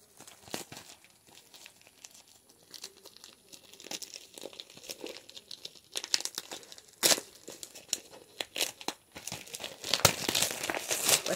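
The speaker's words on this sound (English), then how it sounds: "I haven't even opened up this package yet. Plastic still on." Plastic wrap crinkling and tearing as a skincare product package is unwrapped, a close, busy run of crackles and sharp rustles that grows louder and denser toward the end.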